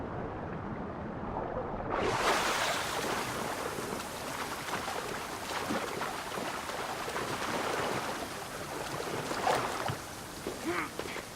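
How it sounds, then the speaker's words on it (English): Rushing waterfall in the ancient Greek open-world game Assassin's Creed Odyssey, a steady broadband roar of falling water that swells in after a soft start and stays loud and continuous. "This is the waterfall."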